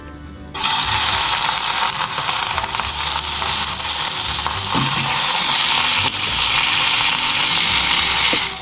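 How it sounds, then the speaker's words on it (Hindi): Chicken cubes hit a spoonful of hot oil in a frying pan and set off a loud, steady sizzle that starts abruptly and continues without a break, with no voices. "अब ये चिकन क्यूब्स को हमने फ्राइंग पैन में डाल देना।"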